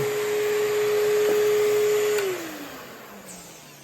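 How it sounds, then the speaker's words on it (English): A 2011 Oreck XL Professional Grade commercial upright vacuum with a loud, steady motor whine that is switched off partway through, the pitch sliding down and the roar fading as the motor spins down. "It's an Oreck XL Professional Grade commercial vacuum."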